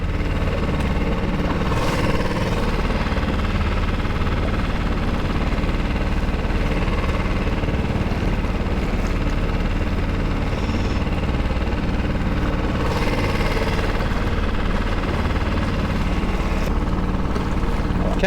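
Mercury 6hp outboard motor pushing an Ascend 133x boat along a waterway, a steady loud droning engine hum with water rush, constant throughout.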